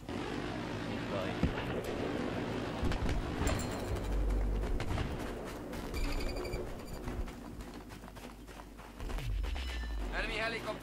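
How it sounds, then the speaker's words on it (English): A helicopter in the Battlefield 3 video game, heard as a steady loud rotor and engine drone during a Capture the Flag match, with gunfire bursts and game voice lines mixed in. "Enemy helicopter spotted."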